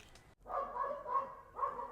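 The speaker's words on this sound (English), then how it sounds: "He started barking excitedly and pawing at the window." A beagle barks excitedly in several close, loud bursts with short pauses between them, the dog alone and no voices over it.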